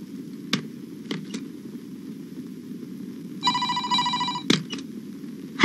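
A telephone rings with a bright electronic tone in one burst of about a second, over quiet room noise with a few soft knocks, in a Kannada film scene.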